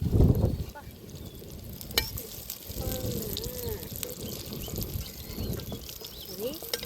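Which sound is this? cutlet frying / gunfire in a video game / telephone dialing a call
cutlet frying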